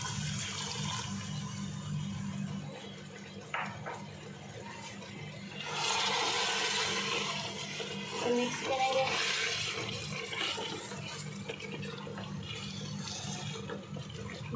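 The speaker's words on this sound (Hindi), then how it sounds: "अब हम इसमें 1/2 कप पानी डालेंगे।" Half a cup of water poured into a pot of browned mutton qorma to make gravy, a surge of rushing, sizzling liquid roar over a steady stove hum, close and moderately loud with no talking.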